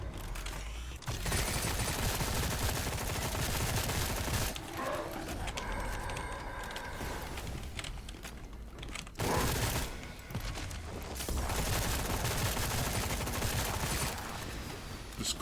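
Rapid gunfire in a first-person shooter game demo, dense bursts of shots filling most of the stretch with brief lulls between volleys, loud and close.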